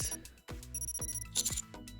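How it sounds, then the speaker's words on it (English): In the video game Goddess of Victory Nikke, a counter bell rings in a clear repeated pattern of bright tones over a soft musical background, with no talking. "As we chat, the sound of a bell ringing comes from the counter up front."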